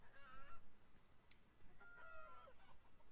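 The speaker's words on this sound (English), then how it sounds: "Oh, they're just chicken." Chickens cluck in the video game Beyond Eyes, two faint bursts of clucking a moment apart over a low outdoor ambience, with no talking.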